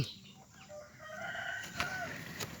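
A junglefowl decoy bird's call rings out once, a drawn-out crow over a quiet, faintly hissing background.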